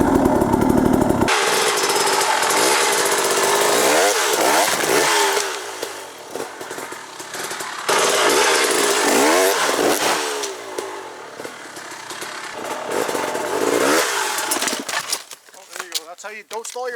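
An enduro dirt bike crossing logs, the engine revving hard in loud bursts, dropping briefly to a lower idle, then snarling up again, with the rider close by and no speech.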